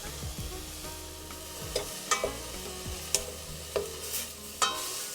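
Carrots and celery sautéing in a pan: a steady soft sizzle runs throughout, broken by several sharp scrapes and clicks of a utensil stirring against the pan, close and moderately quiet with no talking.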